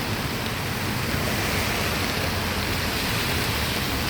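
Heavy rain pours in a dense, steady roar of hiss with no pauses, close and loud, during local flooding.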